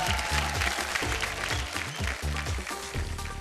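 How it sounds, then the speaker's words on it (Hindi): A studio audience applauds on a Bhojpuri TV talent show as a contestant is called up, a dense burst of clapping that goes on alongside background music. "जोरदार तालियां इनके लिए।"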